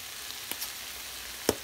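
Okra fries in a pan for a curry with green bananas, giving a soft continuous sizzle with a few faint pops and crackles, with no talk over it.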